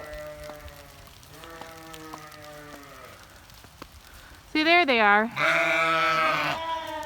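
Sheep or goats, mothers and lambs, bleat outside a barn in the rain, steady layered calls under a quiet background, then loud close bleats burst out while a person talks briefly.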